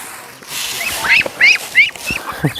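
Ducks quacking and honking close by, a rapid series of loud, nasal calls in quick succession with short pauses between them, sounding alone without speech.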